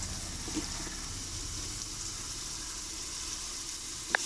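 Onions sautéing in a pan until golden, a steady soft sizzle and frying hiss throughout with a faint clink near the end.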